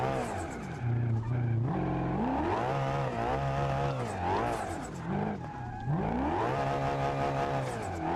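A car in BeamNG accelerates hard with nitrous and boost, its engine rising and falling through several gear pulls with tire squeal, loud and continuous with no talk.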